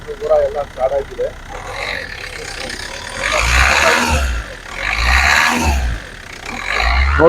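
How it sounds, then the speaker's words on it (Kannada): A Hyundai Verna SX diesel engine idles with a low, pulsing rumble while someone talks close by over it. "ನೋಡ್ಬೋದು ಫ್ರೆಂಡ್ಸ್, ಇಂಜಿನ್ ಎಲ್ಲ ಸ್ಟಾರ್ಟ್ ಆಗಿದೆ."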